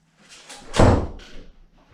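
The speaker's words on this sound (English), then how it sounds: "set this up over the door and then shut the door with the knots on the other side of the door" A door is shut firmly over a bed sheet knotted on its far side as an anchor, giving one close, heavy slam with a brief rattle and a soft thump after it, in an otherwise quiet room.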